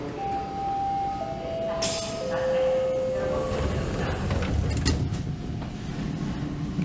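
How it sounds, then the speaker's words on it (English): Toronto subway train on Line 2 heading toward Kimberley, heard from inside the car: a steady loud rumble with rising motor whine tones and a brief screech near the middle, no talk. "And we'll ride the train one stop to Victoria Park."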